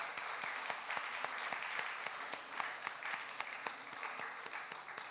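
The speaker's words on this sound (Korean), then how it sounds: "여러분은 큰 박수로 축하해 주시기 바랍니다" A church congregation at a Wednesday service claps for trainees completing an evangelism training course, a sustained round of moderately loud applause with distinct individual claps.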